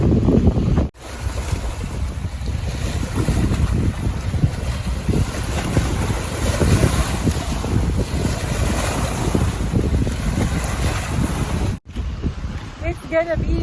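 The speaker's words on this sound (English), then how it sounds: "the lake is kind of choppy. It's very windy out." Strong wind roars over choppy Lake Geneva, Wisconsin, a loud, continuous gusting rumble on the microphone that runs nearly unbroken for the whole stretch, with only brief cuts near the start and end and possible voices beneath it.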